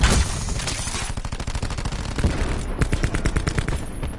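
Rapid automatic gunfire in the shooter Black Ops 4, loud close bursts of fast repeating shots with brief pauses between them and no talk over them.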